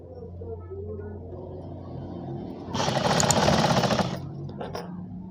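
A sewing machine runs in one steady burst of just over a second while stitching a four-panel petticoat, close and whirring, following a quieter stretch of room noise.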